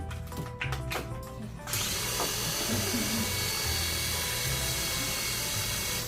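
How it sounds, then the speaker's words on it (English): A Spider-Man toy drone helicopter spins up after a few faint clicks, then holds a close, steady high-pitched whirring buzz from its rotors. "here's the drone."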